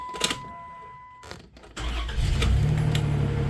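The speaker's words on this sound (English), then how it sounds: "That's insane how good that motor runs." A 1991 Dodge Grand Caravan, abandoned for more than 21 years, cranks and fires, then settles into a steady running rumble. A brief electric whine and a click come before the start.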